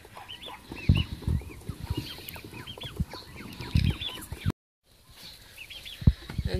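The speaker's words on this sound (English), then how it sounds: "Here you can see our chickens, ducks, and the geese are in the yard." Farmyard poultry in rural Ukraine calling all at once: clucking chickens, quacking ducks and honking geese in a busy, overlapping chorus, with a brief dropout near the end.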